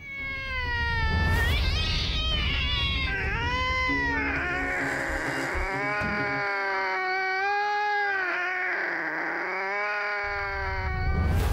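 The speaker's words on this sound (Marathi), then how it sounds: "मांजराच्या रडण्याचा आवाज ऐकला." A cat yowls in long, drawn-out wailing cries, loud and close, rising and falling continuously with no pauses and no talking.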